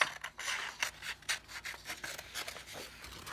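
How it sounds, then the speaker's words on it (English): Scissors snip through paper to cut out two drawn ear shapes for a mouse craft, a run of short, crisp cutting strokes repeating close up with no talking. "I'm going to take my scissors and cut out my ears"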